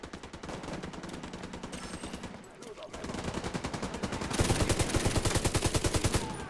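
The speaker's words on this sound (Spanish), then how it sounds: "Espera, que hay tiros." Rapid automatic gunfire in The Division 2 during a Jefferson Trade Center mission, with dense bursts of shots that grow louder and more rhythmic toward the end over a busy game soundscape.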